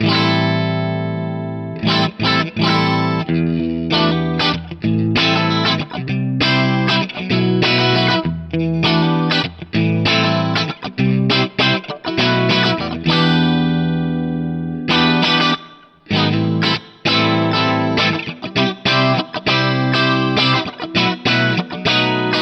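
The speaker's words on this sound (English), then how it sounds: "it's like having a bit of chorus and a bit of reverb in there" Clean electric guitar through a BOSS CE-20 Chorus Ensemble pedal, strummed and picked in a bright, shimmering 80s-style tone with a wavering chorus and a wash of ambient reverb, playing continuously with brief pauses.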